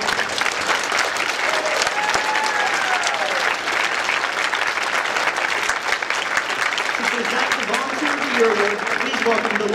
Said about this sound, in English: Let's thank them with a loud round of applause for all their hard work on your behalf.